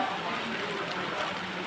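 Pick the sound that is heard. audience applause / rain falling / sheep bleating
rain falling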